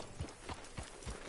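Horse hooves clip-clopping at a slow walk in the Western video game Red Dead Redemption 2, four soft evenly spaced thuds, faint and alone with no talk.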